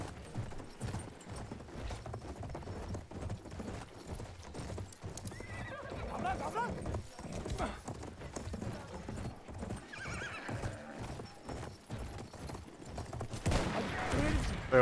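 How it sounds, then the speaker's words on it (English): Horse hooves galloping in the video game Battlefield 1, a dense, continuous clip-clop rhythm with whinnies and scattered gunfire in the background of a battle, fairly faint throughout. "There's a horse chasing me."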